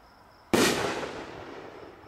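A Pro Hero triple break firework artillery shell bursts with a single sharp, loud boom that decays into a long crackling rumble, standing alone against quiet background.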